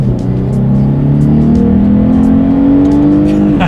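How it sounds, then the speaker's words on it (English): A 2019 Lexus IS 300 F Sport with a naturally aspirated V6 accelerates hard in sport mode. The loud engine note climbs steadily in pitch through the gear as it pulls up to speed, heard from inside the car. "let's go ahead and test out the acceleration along with the paddle shifters, and we'll see how quickly we can get this naturally aspirated"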